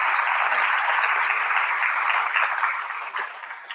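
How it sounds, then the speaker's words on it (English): Applause from a conference audience after a talk on debugging with Chrome DevTools, a full, continuous wash of clapping that gradually thins and fades toward the end. "let's give up another round of applause for Ewa and Barry for this great talk"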